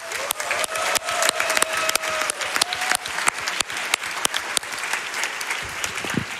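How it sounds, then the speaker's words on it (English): An audience claps steadily, a dense patter of many hands at fairly close range that carries on without letting up. "So let's give them a round of applause."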